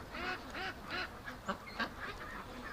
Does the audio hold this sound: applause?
no